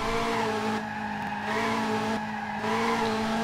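A Ferrari F355 slides in the Dreamcast racing game F355 Challenge, its loud, sustained engine whine blending with squealing tires that dip briefly twice before surging back.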